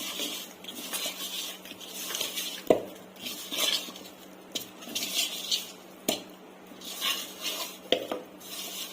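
Raw fish pieces being mixed with chili powder, turmeric and salt for Nellore fish curry, soft wet squelching in a bowl with scattered sharp clinks of utensil against dish, close and fairly quiet, no talk.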